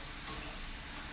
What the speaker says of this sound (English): And then stir that in.